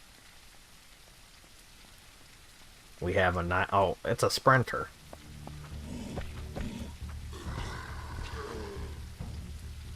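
Steady rain falls in the woods of a zombie video game, a soft continuous patter throughout, with someone talking over it for several seconds in the middle.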